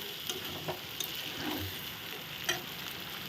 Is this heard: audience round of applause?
no